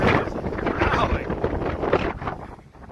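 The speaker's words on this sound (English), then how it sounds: "The wind is howling." Gusty wind roars against the microphone outdoors on a sunny but blustery day, a steady loud rush with surging gusts that eases slightly toward the end.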